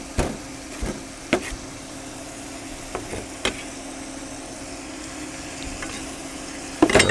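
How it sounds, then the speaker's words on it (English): A spoon stirs fennel into chicken soup in a pot, with scattered scraping knocks and clinks over a soft steady simmering sizzle, ending in a brief burst of clatter, no talk. "here's the rest of my fennel going in. Go ahead and give this a stir"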